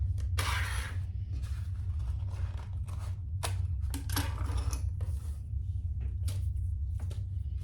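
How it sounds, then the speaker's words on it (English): Scissors snipping off excess zipper tape while sewing a crossbody bag, a few sharp close cuts and handling clatter spread over several seconds against a steady low hum. "let's cut off our excess zipper tape"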